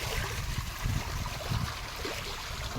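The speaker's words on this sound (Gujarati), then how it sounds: "મોટર કેટલો પાણી નાખે છે" Water pours from a pump motor outlet, a low gurgling, splashing rush that runs continuously and fairly quietly with no clear speech.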